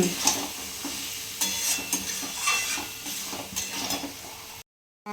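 Goat fat stir-fried with turmeric in a pan sizzles steadily while a spatula scrapes and stirs in repeated strokes, close and moderately loud, ending in a sudden brief silence.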